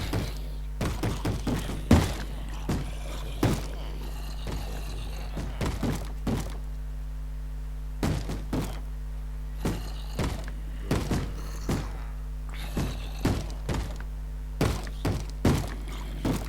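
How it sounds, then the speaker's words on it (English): Repeated hollow thuds of a Minecraft mob banging on a wooden door, sharp irregular knocks in bursts of two or three over a steady low game hum, close and fairly loud with no talking. "Stop banging on the door, you idiot, and die."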